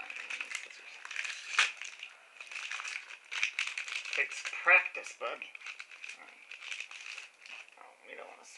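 A trading card booster pack wrapper crinkles and crumples as it is torn open, with steady plastic rustling running beneath near, overlapping conversation between several people.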